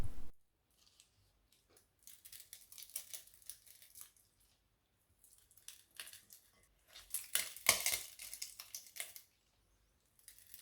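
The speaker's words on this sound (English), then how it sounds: "Let's mash the tender parsnip onto the butter, cream and rosemary now." Tender parsnip being mashed with butter, cream and rosemary, soft squelching and scraping strokes in several bursts separated by quiet pauses, close and fairly faint.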